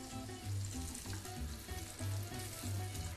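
Onion quarters sizzle and crackle in hot oil, with a steady frying hiss and pulsing low bursts that come close together and stay fairly quiet.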